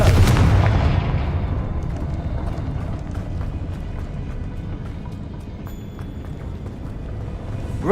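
A Confringo spell explosion in Hogwarts Legacy, with a heavy booming blast at the start that fades into a rumbling, crackling tail beneath game ambience and scattered faint effects.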